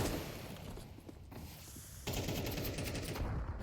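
Rapid automatic gunfire bursts from a Counter-Strike 2 match in a professional esports tournament, dense and loud across the clip, with a brief lull midway before another sustained volley.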